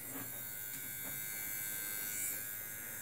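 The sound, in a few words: electric ear and nose trimmer running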